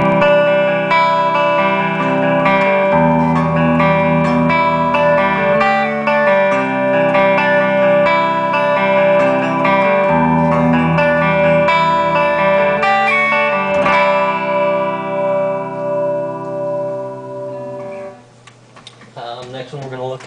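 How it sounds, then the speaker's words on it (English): A Gibson Les Paul Custom electric guitar played through the neck pickup on a clean amp channel with amp reverb, ringing chords and notes in a steady flow that fade into a reverberant tail near the end. "we're going to start with the Les Paul Custom. It is on the neck pickup and the clean channel, and I've got the reverb on the amp."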